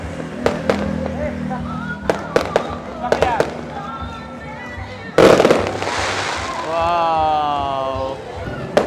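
Christmas fireworks burst in scattered sharp pops and crackles, followed by one loud close blast with a fizzing roar, while people exclaim and talk over the display.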